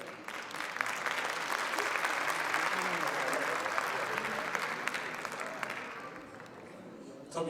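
Steady clapping from the audience at a Caucasian cultural evening concert in Kayseri during a plaque presentation, a continuous crowd applause that tapers off near the end.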